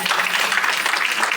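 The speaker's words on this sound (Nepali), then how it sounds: "सम्पूर्णको लागि फेरि पनि सम्मानको जोरदार ताली" A crowd at a women's church fellowship gathering claps in a dense, steady wash of applause, with voices mixed in.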